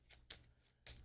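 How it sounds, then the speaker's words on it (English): Cards from a Tainted Grail: Kings of Ruin item deck are shuffled by hand, three short crisp riffling bursts, the last one the loudest, with quiet gaps between. "Just want to shuffle item deck B."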